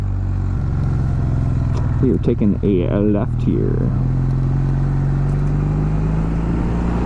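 A 2024 Kawasaki W800 retro cruiser motorcycle with its stock twin exhaust rumbles steadily under a low engine drone while being ridden, with a rider's voice talking briefly over the engine noise in the middle.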